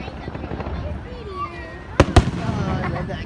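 Fireworks burst at an outdoor display near a castle, two sharp loud bangs in quick succession over a background of crowd chatter and people talking, with faint whistling trails before the pops.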